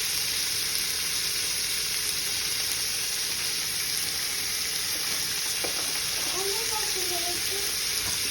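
Vegetables and egg fried rice sizzle steadily in a hot pan, a continuous bright frying hiss close by, while a voice speaks briefly toward the end.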